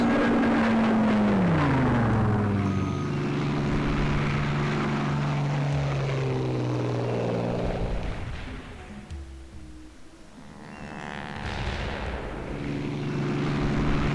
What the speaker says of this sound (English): That's a cool sounding plane.